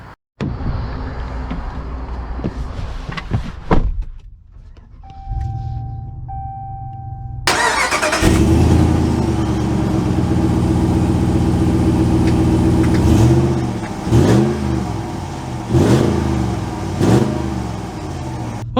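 A 2022 Ram 1500 Rocky Ridge K2 pickup goes from faint cabin sounds to a loud engine start at about seven seconds, then settles into a steady running drone with several rising revs as it pulls away.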